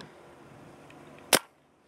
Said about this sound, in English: we're going to be shooting some Ultra Evil today with the Pooty Bubblegum flat face bolt for the Luxe